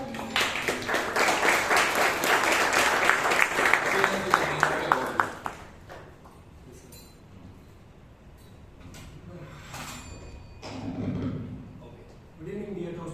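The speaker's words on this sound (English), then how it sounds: "Please welcome with a big round of applause Chiran Gowda" Warm round of applause at a Bangalore Toastmasters club meeting as the timer is welcomed, lively clapping for about five seconds that stops abruptly, followed by quiet room noise with some shuffling and faint movement.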